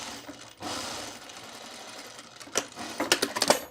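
A sewing machine stitches along the edge of a shirt's under placket on a pullover camp shirt. Quick, soft mechanical whirring comes in short bursts, with a louder burst of rapid stitching near the end and no talk over it.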